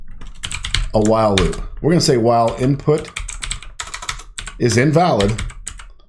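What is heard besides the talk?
typing code on a computer keyboard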